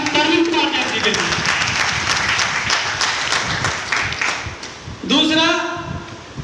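An audience at a company event claps loudly for its management, a dense wash of many hands lasting several seconds, with someone speaking at the start and again as the applause fades.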